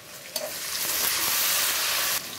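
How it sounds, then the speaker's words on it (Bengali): Garlic fries in oil after onions while chicken biryani is cooked. A brief clink comes first, then a dense sizzle swells and holds close by before easing off, with no talk. "দেখো রসুনটা একটু ভেজে নিছি"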